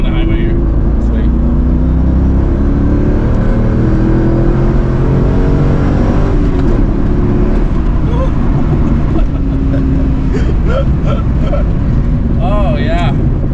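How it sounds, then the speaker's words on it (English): A C5 Z06 Corvette accelerates along a highway, its engine droning loudly and continuously from inside the cabin with rising revs and road roar, while people talk over it. "She gets going too when she gets in the fourth gear"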